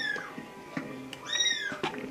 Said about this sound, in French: et qui est en train de me dire dans l'oreille « Miaou, j'ai faim »